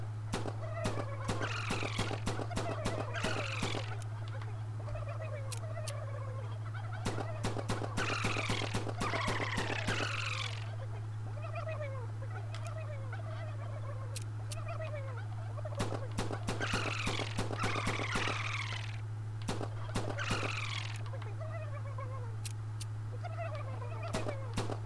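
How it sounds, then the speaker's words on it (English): Turkeys gobble in the Herocade VR game on PlayStation VR, repeated bursts of rapid, rattling gobbles in loud clusters over a steady low electrical hum. "you'll see turkeys coming from all angles"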